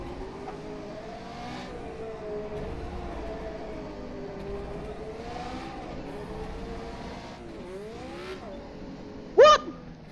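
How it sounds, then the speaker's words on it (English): Lola T280 race car engine in a racing video game, set on the Targa Florio course, drones steadily with pitch rising and falling through gear changes, ending in a brief sharp burst near the end. "At least I kept the engine running."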